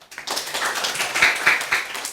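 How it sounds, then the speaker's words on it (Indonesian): A small class claps for a group that has just presented, a short burst of distinct, fairly close hand claps from a few people that lasts about two seconds. "Kita beri tepuk tangan dulu."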